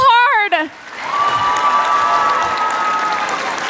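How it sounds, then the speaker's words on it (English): A convention crowd at a cosplay contest bursts into loud applause and cheering right after a brief spoken line, the clapping sustained with a held whistle or cheer riding above it. "And now give everyone a round of applause because everyone was amazing."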